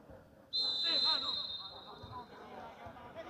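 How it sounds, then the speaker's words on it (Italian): A football referee's whistle blows sharply for a foul during a Monterotondo versus FC Ianus Eifa Superleague match, one long shrill blast that rings out loud above the murmur of the crowd and players. "Arbitro che fischia il fallo da parte dello Janus a favore del Monterotondo."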